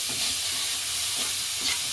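Grated coconut and jaggery are cooked in a wok while being stirred, giving a steady close hiss with soft, faint stirring scrapes running throughout. No one speaks.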